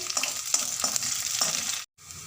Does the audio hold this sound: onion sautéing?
yes